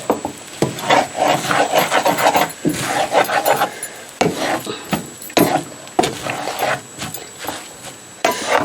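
Vegetables and couscous are stirred in a pan, making repeated close scraping and rubbing strokes in an uneven rhythm, loud and with no talking.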